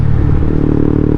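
Close, loud engine note from a 2017 Honda CBR150R with an Akrapovic M1 exhaust, a short burst of rumbling revving with a rattly edge.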